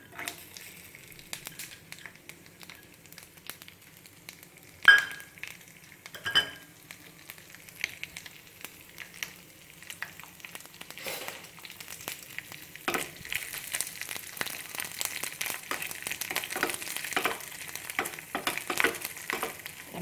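Steady sizzling of coconut and cashew pieces frying in hot oil for flattened rice payasam, with occasional stirring clatter and a crackle that grows louder toward the end.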